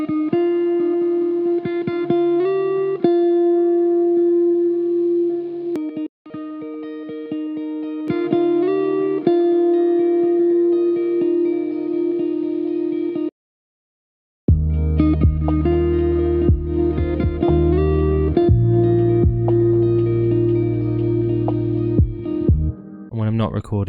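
Two electric guitar lines recorded through the Guitar Rig 7 Clean Cave preset in a lo-fi track, clean picked melodic phrases over a steady bed, briefly cutting out before a fuller section with low bass joins.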